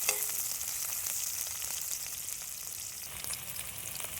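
Dry red chilli duck curry sautéing in a pan, a quiet, steady sizzle and crackle that stays continuous and even throughout, with no one speaking.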